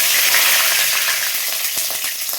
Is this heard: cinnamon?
yes